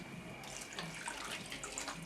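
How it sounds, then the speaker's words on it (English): Water is poured from a tap into a cooking pot of lentils, a steady, faint splashing and gurgling stream without talk. "now we add some water"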